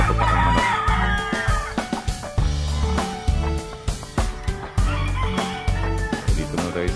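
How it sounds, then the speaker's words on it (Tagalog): A fighting cock crows loudly and close, with sharp rhythmic flapping and clucking around the calls. "Magpapatupak ang manok."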